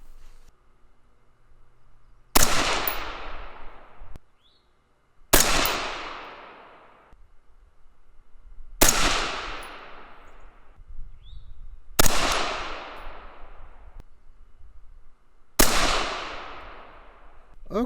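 Rifle firing M855A1 reloaded ammunition at a range, five sharp, loud cracks spaced a few seconds apart, each trailing off in a long outdoor echo.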